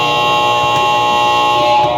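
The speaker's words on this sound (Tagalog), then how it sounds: "Wait for the buzzer" A flat, loud electronic buzzer sounds at the end of a quarter in a league basketball game, one sustained harsh tone lasting about two seconds without a break.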